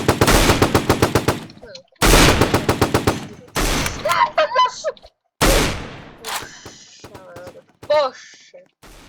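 Rapid bursts of automatic gunfire in a Fortnite-style Roblox game, in quick rhythmic volleys separated by short pauses and stray electronic effects, loud and close with synthetic game-like sounds.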